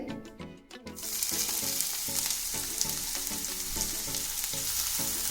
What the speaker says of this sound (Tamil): எண்ணெய் நல்லா சூடாயிடுச்சு. ஒரு வெங்காயம் கட் பண்ணதை போட்டுடலாம். பொடியாக கட் பண்ணது.